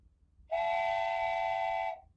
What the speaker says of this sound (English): A wooden train whistle.